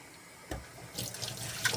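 Tap water runs into a pot being filled with about nine litres for a bean soup, a soft steady splashing stream close by that grows louder partway through.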